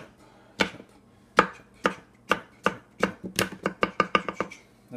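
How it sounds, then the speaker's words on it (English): Food being chopped on a cutting board: a knife knocks sharply and closely, starting with spaced single strikes and speeding into a quicker run of chops, with no talk. "Chop."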